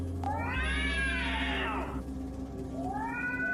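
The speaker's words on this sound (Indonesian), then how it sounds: "seekor kucing hitam melompat dari jendela" A black cat meows loudly and close up with a long, drawn-out rising and falling cry, then gives a shorter second meow, over a steady background hum.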